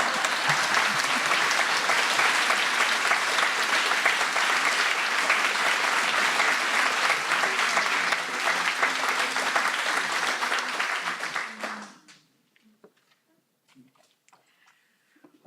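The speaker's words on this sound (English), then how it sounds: "Pause for applause." An audience at a university launch of an Indigenous law degree program breaks into loud, dense applause that holds steady for about twelve seconds, then cuts off into near silence.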